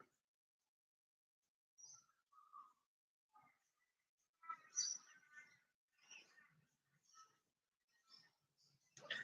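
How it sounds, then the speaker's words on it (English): Faint, scattered bird chirps and short song phrases come from a distance at dawn, separated by near silence. "So having these birds in the background is a great distraction."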